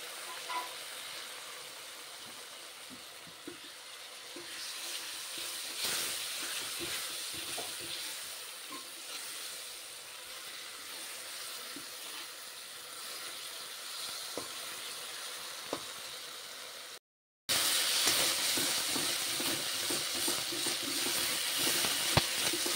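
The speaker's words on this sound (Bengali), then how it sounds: "এখন এই বেটে রাখা মশলাটা দেওয়া হবে, দিয়ে এবারে কষাতে হবে ভালো করে।" Ground spice paste fries in oil in a pan while being cooked down for a fish curry, a continuous moderate sizzle and hiss with scattered soft scrapes, broken by a short silent gap before the frying resumes louder.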